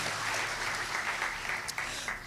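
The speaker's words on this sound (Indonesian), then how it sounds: "Ayo kasih tepuk tangan dulu buat Tuhan kita" A church congregation claps together during a sermon, a steady, continuous wash of applause at moderate distance that carries on evenly throughout.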